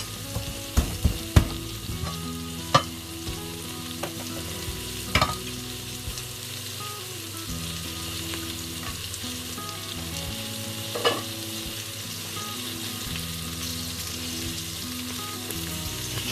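Steady sizzling of onions frying in a pan, with a few sharp clinks of a utensil stirring near the start and once midway.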